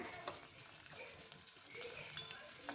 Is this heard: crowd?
no